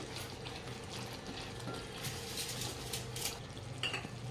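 Roasted papad stirred into gravy in a pan, a steady low bubbling and soft scraping with light clinks of a spoon against the pan throughout, close and continuous with no talk.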